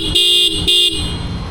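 Apache double horn fitted to a Triumph Speed T4 motorcycle gives two loud, close honks in quick succession over the steady hum of the idling engine.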